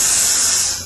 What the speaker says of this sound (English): All you need is that spray can whipped cream alcohol shit you've been seeing.